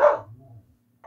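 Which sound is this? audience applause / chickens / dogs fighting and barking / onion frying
dogs fighting and barking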